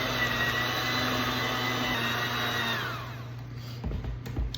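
An electric mixer whirs steadily through cake batter made with vegetable oil and buttermilk for red velvet cake, a continuous close hum that winds down and stops, followed by a few light knocks.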